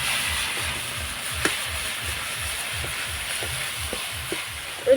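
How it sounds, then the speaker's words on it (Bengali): Jaggery melting with grated coconut in a pan, stirred in a steady rhythm of soft, low scraping strokes over a quiet hiss, with an occasional light clink. "আমি নাড়াচাড়া করে গুড়টাকে গলিয়ে নিয়েছি নারকেলের সঙ্গে মিশিয়ে নিয়েছি"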